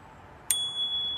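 A Knog Oi bicycle bell on a Douze LT2S long-tail cargo bike gives a single bright ding that rings on with a long, clear sustain, heard alone and close.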